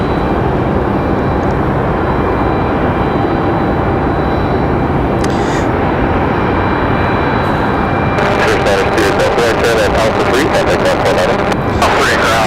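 A flight school light aircraft at Raleigh-Durham International passes with a steady, broadband engine drone that holds throughout, joined by gusty, crackling noise in the final seconds.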